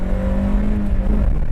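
A Mazda Miata engine hums at a steady pitch, then the tone drops and shifts during a power shift, close and fairly loud.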